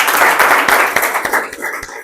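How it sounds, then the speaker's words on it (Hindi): A group of people clap for their teacher at a small gathering honouring a student's Indian Army selection, a steady patter of many hands close by that thins out toward the end. "ताली बजाओ मैडम के लिए"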